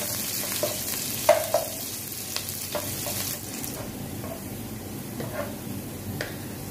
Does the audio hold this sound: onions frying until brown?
yes